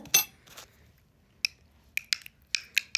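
Clinks and taps of a spoon against a jar of natural pumpkin preserve after it is opened, a few sharp metallic ticks spaced irregularly, close but quiet, with near-silence between them.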